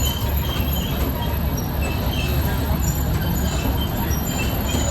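The Matheran toy train rolls along its narrow-gauge rails as a steady, dense rumble of wheels and carriages with faint squeals, close and continuous for the whole stretch.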